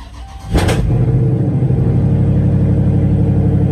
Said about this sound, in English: So let's crank this thing, get this video cracking.